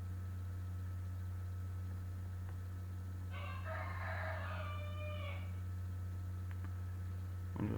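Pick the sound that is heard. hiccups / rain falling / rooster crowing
rooster crowing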